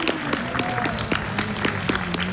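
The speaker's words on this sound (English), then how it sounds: "Let's get some applause for that." Livestream audience at a speedrun marathon event applauds after a Richard Burns Rally run, a steady wash of clapping with scattered sharper claps, moderately loud and continuous with faint voices mixed in.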